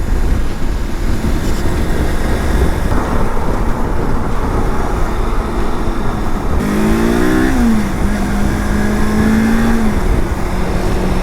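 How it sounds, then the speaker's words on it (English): Wind roaring steadily against a Sedici motorcycle helmet while riding, a loud continuous rushing blast, with engine tone rising and falling partway through. "So the wind is blasting me in the face."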